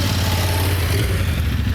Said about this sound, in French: Lance la moto